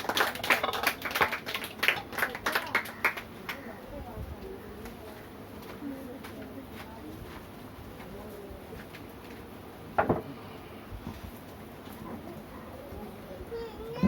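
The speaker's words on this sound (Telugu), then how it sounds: "క్లాప్స్ కొట్టండి రా, బాగా చెప్పింది." Children clap together at a children's Bible school, a burst of quick, uneven applause lasting a few seconds before fading out, followed by a quieter room with an adult voice speaking.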